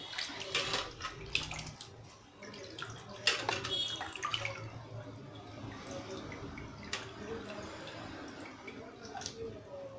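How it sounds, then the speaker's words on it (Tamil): Raw mutton pieces rinsed by hand in a vessel filled with plenty of water, giving close, irregular splashing, sloshing and dripping sounds throughout, with a louder burst of activity in the first few seconds. "இந்த மாதிரி நிறைய தண்ணி வச்சுட்டு இந்த மாதிரி டக்குன்னு இதை வந்து அலசி எடுத்துடணும்"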